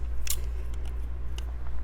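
Scissors cutting open a shoe box, a couple of faint quick snips and scrapes over a steady low electrical hum.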